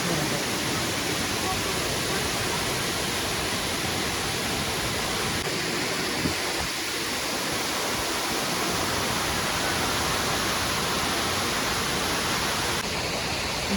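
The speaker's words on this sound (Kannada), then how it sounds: "Here we go, our final waterfall." A waterfall near Ubud, Bali, pours with a loud, continuous, even roar of rushing water that fills the whole stretch without pause.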